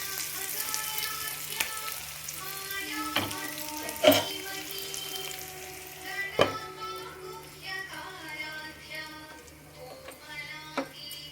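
Bitter gourd and onion curry sizzles steadily in a covered pan, with soft clinks and scrapes over the frying and a person talking intermittently nearby.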